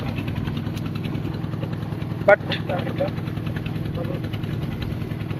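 A motorboat engine drones on a boat just setting off across the flooded Halti Beel in Natore, a steady low idling hum throughout with a sharp knock midway and a single spoken word.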